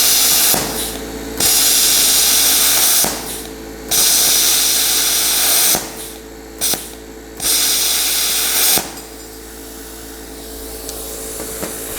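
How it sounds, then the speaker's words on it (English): A Yeswelder CT2050 plasma cutter with built-in compressor slices through powder-coated metal, loud hissing bursts of air and arc that start and stop several times, with a lower steady hum between cuts. "plasma cutting with that high voltage arc is you just bite right into any material and get cutting"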